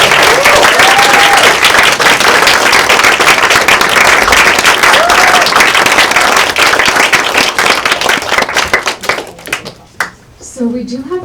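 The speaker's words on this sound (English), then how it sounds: "maybe one more round of applause" After an experimental lecture, an audience gives a loud, sustained round of applause with dense clapping and a few whoops, thinning into scattered claps as a voice begins speaking at the end.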